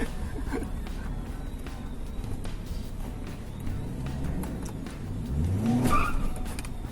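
A Toyota Fortuner with a 2.7L Rotrex-supercharged engine accelerating, its engine note rising and swelling toward the end, with some tire noise underneath.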